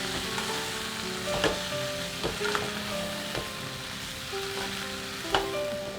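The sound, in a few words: stirring cauliflower and green peas in a pan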